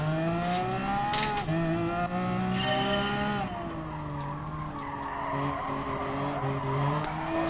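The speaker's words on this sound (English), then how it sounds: "Now the Veneno makes a turn." A Lamborghini Veneno in the Gran Turismo Sport racing game skids through a turn, its tires squealing loudly over a steady, high-revving engine drone that shifts pitch as the car corners.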